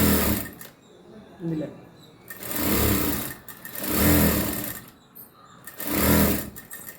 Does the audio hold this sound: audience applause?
no